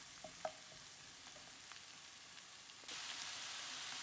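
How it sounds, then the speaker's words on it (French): Bacon lardons and chorizo fry in a pan with a faint, low sizzle and a few light taps. The hiss jumps abruptly louder and brighter near the end. "les lardons et le chorizo et on va laisser cuire à peu près 5 minutes"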